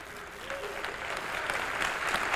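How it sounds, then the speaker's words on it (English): Applause for Brother Malik from an audience at a 1994 Black Holocaust conference in Washington, D.C., a dense, steady crowd clapping that swells slightly louder toward the end. "I want to give Brother Malik a strong round of applause"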